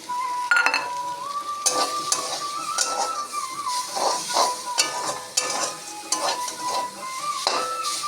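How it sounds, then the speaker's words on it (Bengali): Fried tilapia pieces being stirred into mustard flower greens in a frying pan, with steady sizzling and repeated scraping strokes of a utensil against the pan over several seconds, close up and with no talking. "মাছ ভাজাটা মিশিয়ে দেবো।"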